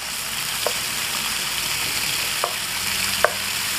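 Onions stir-frying in a hot wok for jajangmyeon, a loud continuous sizzle close up with a few sharp spatula clicks scattered through it and no voices.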